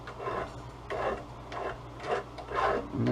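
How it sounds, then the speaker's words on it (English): A hand file rasps in steady rhythmic strokes as it cuts a chamfer on the end of a brake line for a Willys CJ2a flat fender Jeep. The strokes are close and moderately loud, and nobody speaks. "So we're just putting a nice little chamfer on it, just to kind of break that edge a little bit."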